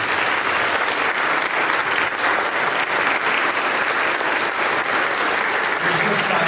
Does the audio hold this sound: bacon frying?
no